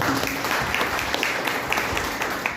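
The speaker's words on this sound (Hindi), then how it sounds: "एक जोरदार तालियां होनी चाहिए" Applause from an audience at a network marketing business seminar, a dense, steady wash of many hands clapping at moderate loudness, continuing evenly with no voices on top.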